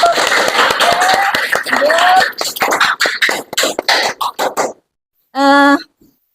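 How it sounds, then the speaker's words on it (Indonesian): Classroom students clapping, short bursts of close hand claps mixed with talk, thinning into scattered individual claps before falling quiet. "Tepuk tangan sekali lagi untuk"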